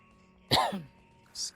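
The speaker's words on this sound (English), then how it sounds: "Excuse my cough." A single sharp, throaty cough bursts out close to the microphone, followed by a short pause and then a faint breathy hiss.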